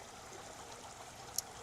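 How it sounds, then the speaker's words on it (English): Water runs steadily through the main overspill feed of the Lancaster canal's Glasson branch, a constant rushing stream with a brief sharp click near the end, no voices. "this is actually the main overspill stroke water feed, which then feeds the Glasson branch"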